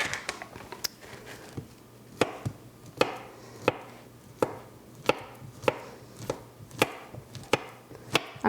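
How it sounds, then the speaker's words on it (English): A knife slices a banana on a cutting board in a kitchen, giving a steady run of sharp, close chopping taps about every half second, with no talking. "And then I'm going to slice up some banana."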